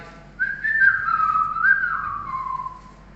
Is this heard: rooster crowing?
no